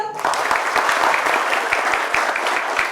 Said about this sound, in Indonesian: Oke, terima kasih tepuk tangan muda.